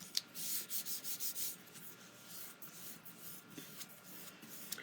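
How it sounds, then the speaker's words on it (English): Fingers rubbing excess adhesive off a paper card envelope flap, a series of soft, quick rhythmic scrubbing strokes up close, then lighter intermittent rubs and a small tap. "I'm just taking some of the extra adhesive off"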